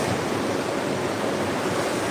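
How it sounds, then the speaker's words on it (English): Water sprayed onto a filthy Chinese wool rug during a cleaning session gives a steady, loud, close hiss of broadband spray, continuous and unbroken for the whole stretch with no voices. "we are going to hit this rug with some water again, run the brush, loosen up any more dirt we can get out"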